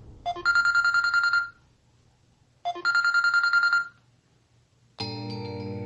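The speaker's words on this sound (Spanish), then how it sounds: "Suena el teléfono." A telephone rings in two separate bursts of rapid electronic trills with a quiet gap between them, followed by a sustained tonal chime at the end, clear and close with no talking.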